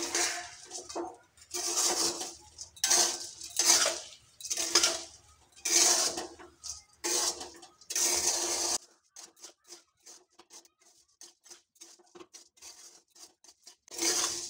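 Scraping and clinking bursts come from a bowl as a moa mixture is stirred with added water, each stroke a bright rattling swish in irregular rhythm, with a few quieter taps and pauses near the end.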